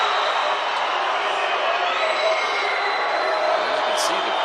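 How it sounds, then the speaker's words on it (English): An arena crowd at a FIBA AmeriCup basketball game between Mexico and Colombia lets out a sustained, roaring wash of jeers and whistles, steady and loud, with a voice talking over it. "As you can see, the crowd didn't like it."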